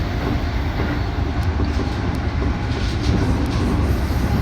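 A Keikyu train runs on rails between Kanazawa-bunko and Kamiōoka, giving a loud, continuous low rumble with steady wheel noise and no break.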